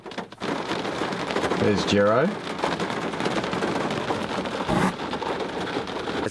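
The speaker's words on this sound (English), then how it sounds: "It's been raining a little bit, so the attendance is down a little bit" Rain falls at an outdoor race, giving a constant hiss beneath a voice, with a brief rising whine of a passing engine partway through.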